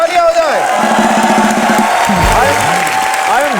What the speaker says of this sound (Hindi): धर्म जी के लिए जोरदार तालियां हो जाए।